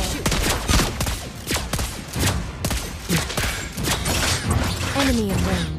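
Lesley fires sniper shots in the Mobile Legends game, sharp repeated shots and mechanical clacks packed into a dense, loud stream of battle effects, with bursts arriving every fraction of a second.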